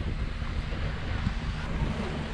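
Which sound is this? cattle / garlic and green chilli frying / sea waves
sea waves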